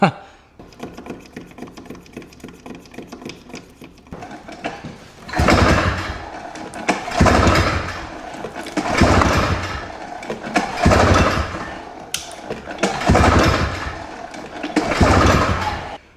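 An old single-cylinder Ski-Doo snowmobile engine is pull-started over and over, a rattling rope pull at first, then repeated loud surging bursts as it tries to catch, close by, with no talking.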